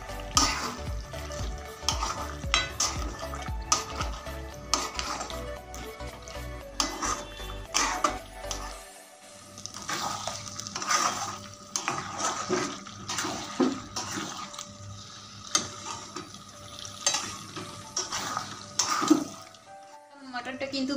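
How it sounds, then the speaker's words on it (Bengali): Ground spices stirred into mutton frying in oil in a pan, with close, continuous sizzling and repeated scraping stirs, a deeper rumble fading out partway through. "সেই মশলাগুলো এখানে অ্যাড করে দিলাম। ভালোভাবে নেড়ে নেবো।"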